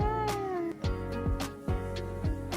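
A cat meows repeatedly, several drawn-out, tonal cries close by, over a steady low background hum.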